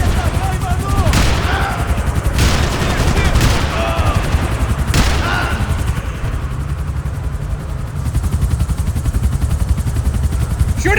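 Shootout gunfire in Max Payne 3: rapid machine-gun bursts with sharp individual shots, loud and close, as a helicopter drones behind and voices shout.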